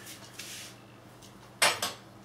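Hard shisha coals handled while setting up a hookah, heard as a faint rustle followed by two close, bright clinks near the end.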